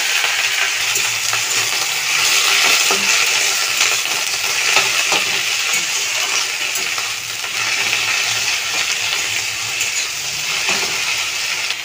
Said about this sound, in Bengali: এবারে এর মধ্যে সে জল ঝরিয়ে রাখা খারকোল পাতাগুলো দিয়ে দিলাম